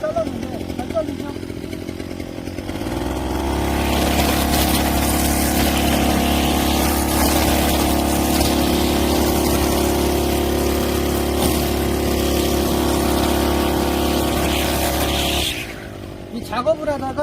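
Brush cutter fitted with both a blade and nylon line, cutting grass at moderate RPM, its engine a steady loud close drone for about twelve seconds before it drops back toward idle, with a brief lead-in and tail.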